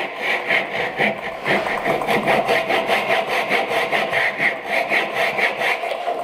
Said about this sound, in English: I'm cutting into the tenon portion now